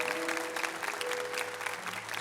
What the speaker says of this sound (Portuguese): Não, aplauda o Senhor.